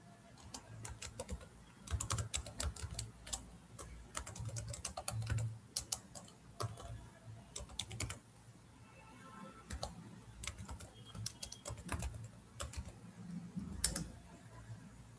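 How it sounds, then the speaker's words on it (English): Fast, uneven clatter of keys on a computer keyboard as an AWS EC2 command is typed, close and fairly quiet, in bursts with brief pauses. "inside that you type the same command, AWS EC2"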